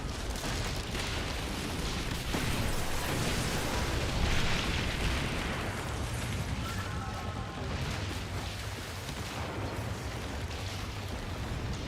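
A sailing ship exploding under rocket hits in the pirate naval game Skull and Bones: sustained roaring blasts and crackling bursts over dense battle noise, with no talking.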